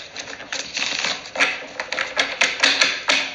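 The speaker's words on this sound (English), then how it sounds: "I'm just going to do one more shuffle" Tarot cards being shuffled close up, a rapid run of crisp riffling taps and flutters repeated in several short bursts.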